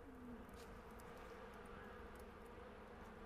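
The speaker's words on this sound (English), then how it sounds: "Look at all them bees." A swarm of bees buzzes in the video game Far Cry Primal as a faint, steady hum with a soft insect drone that continues without a break and no other sounds.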